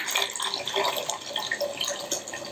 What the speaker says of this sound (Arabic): حطينا ماء جديد،